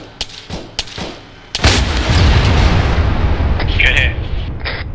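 In ARMA 3 combat, a few sharp gunshots ring out, then a rocket fires and explodes in a loud sustained boom that rumbles and fades, with scattered shots and voice chatter over it.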